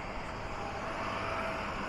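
Steady broadband road noise from several motorbikes passing on a road, a continuous moderate rumble with no distinct individual pass-bys and no talk.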